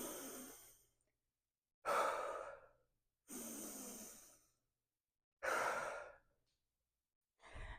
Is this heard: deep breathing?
yes